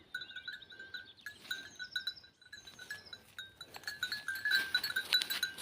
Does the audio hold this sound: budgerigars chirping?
no